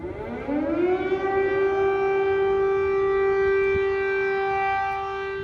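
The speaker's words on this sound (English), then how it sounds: "That is the sound of sirens piercing the empty streets of Kyiv today." An air-raid siren wails over the empty streets of Kyiv, one rising tone climbing to a sustained loud, steady howl that holds without a break to the end.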